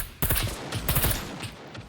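Rapid bursts of automatic gunfire in the video game SCUM, loud and close, with a dense rattling rhythm that continues for nearly two seconds.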